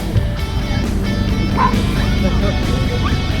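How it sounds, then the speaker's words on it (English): Dogs bark and yip outdoors in Japan, with short sharp barks and a few high whimpering yips scattered across a few seconds over steady background noise. "They have puppies. No, they are more like dogs."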